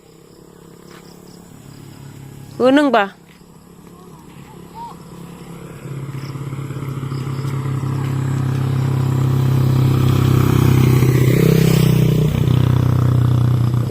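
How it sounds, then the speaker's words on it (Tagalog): A motorcycle approaches and passes, its engine rumble swelling steadily over several seconds to a loud peak near the end, after a short burst of a voice speaking early on. "May motor."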